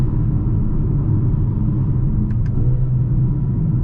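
A 2021 Mercedes-AMG GLA 35 SUV cruises at night, its engine and road noise a steady low rumble from inside the cabin, with a couple of faint ticks partway through.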